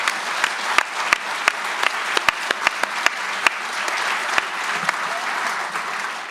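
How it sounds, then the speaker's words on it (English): Audience applause for guests at a Stratford Festival forum, a steady sustained roar of many hands with sharp individual claps popping out near the front. "Please join me in a round of applause for our guests today."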